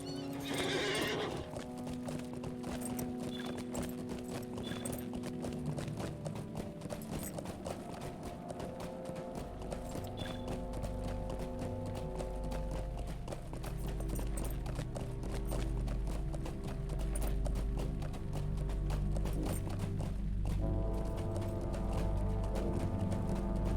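Steady clip-clop of horse hooves trots on without pause in the video game Lord of the Rings Online, with a horse whinnying near the start and faint music underneath.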